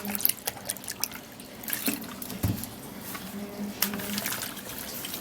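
Tap water running and trickling over a few lettuce leaves being washed in a sink, a steady low splash with scattered drips and brief handling knocks, fairly close and without talk.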